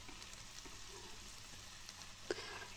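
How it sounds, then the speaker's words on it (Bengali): Rohu fish pieces sizzling in a pan with spices as they are sautéed, a steady soft crackle with a brief clink of a utensil near the end. "এবার মশলার সঙ্গে ভালো করে মাছটা কষিয়ে নেব"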